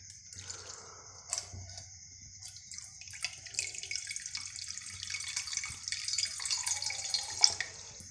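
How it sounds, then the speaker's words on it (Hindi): Water poured from a clay pot in a home kitchen during monsoon season, a steady splashing trickle running for several seconds at moderate loudness, close by, with no talking. "उधर घड़े चो पानी पा लेने"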